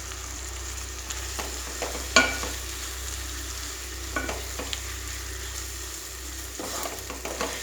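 Leftover khichdi stirred through a hot tempering pan for masala vaghareli khichdi, a steady low sizzle with scattered scraping strokes of the spoon, one sharper clack early on, close and fairly quiet, no voices.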